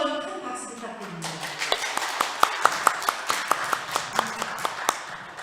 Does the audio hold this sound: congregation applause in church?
yes